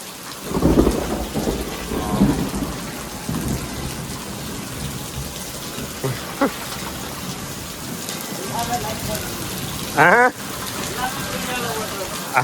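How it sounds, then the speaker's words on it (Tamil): Heavy rain pours steadily while thunder rumbles, with a sharp crack of thunder near the end; a voice speaks briefly over the storm. "இடி வேறு. ஐயோ மின்னல் வெட்டுது."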